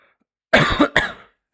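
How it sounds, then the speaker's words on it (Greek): A single person coughs close to the microphone, a harsh burst and a second quick hack in about a second, with silence before and after. "Δεν μπορούσα να μην βήξω."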